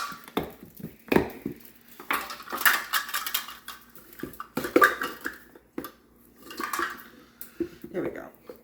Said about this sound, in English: Now the next thing I need to do is add in 3/4 cup of cocoa.